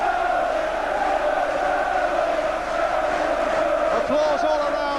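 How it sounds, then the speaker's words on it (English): A large football crowd at Villa Park roars and applauds at the end of a match, a broad sustained wash of cheering from the stands. "Applause all around the crowd from the Villa fans"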